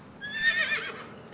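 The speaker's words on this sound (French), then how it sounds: "Moi, j'adore les chevaux." A horse gives a single clear neigh, a short rising and falling whinny lasting about a second, close and fairly loud against a quiet background.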